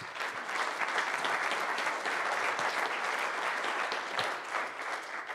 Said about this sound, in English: I want to give them a round of applause for what they've done.